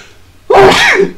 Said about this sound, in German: Oh, ich dachte, ich müsste niesen.